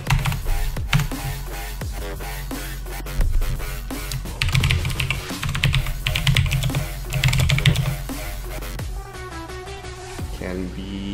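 Rapid typing on a computer keyboard runs through the clip as dense bursts of sharp key clicks with short pauses, close and loud during a Python programming livestream, with a person speaking over parts of it.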